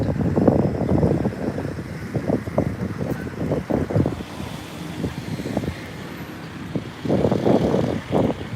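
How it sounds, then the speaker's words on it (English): Steady wind at a riverside in Phnom Penh roars and buffets the microphone in uneven gusts, with loud bursts rising and falling over several seconds and no speech. "It's a little bit windy."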